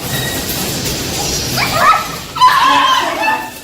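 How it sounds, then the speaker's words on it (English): Rescued beagles barking and whimpering in a recording, with yips and short barks rising over a steady noisy background in the second half, and a voice partly audible beneath. "I'm just going to play a little bit of these dogs barking"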